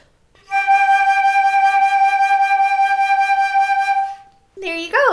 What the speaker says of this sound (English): And once you get fast enough, it'll sound like this